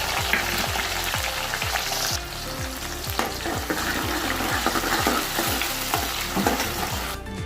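Mustard seeds, green chili, asafoetida and chopped tomatoes fry in hot oil for a simple dal with no garlic or onion. The sizzle is steady and close, and a spoon stirs the pan in regular scraping strokes.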